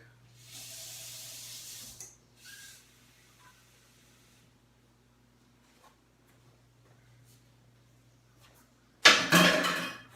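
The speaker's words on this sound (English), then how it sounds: "now to this we add 125 milliliters of cold water" Cold water pouring into apple pie dough in a bowl, a steady splashing stream for about a second at the start and a louder brief burst near the end, with quiet kitchen sounds between.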